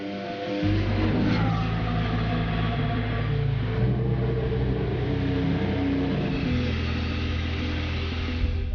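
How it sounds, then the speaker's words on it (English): A Toro Rosso STR10 Formula One car in pre-season testing starts up and then holds a loud, steady, close engine drone with a harsh high whine above a deep rumble, with no talking. "Max will have to watch as Carlos gets the first ever ride of the STR10."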